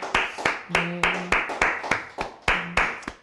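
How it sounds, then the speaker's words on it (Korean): A church congregation claps during an Easter Sunday worship service, with about nine sharp, evenly spaced claps in a steady rhythm, and a voice briefly sounds beneath them in the middle. "우리 부활의 주님을 찬양하며 박수하겠습니다."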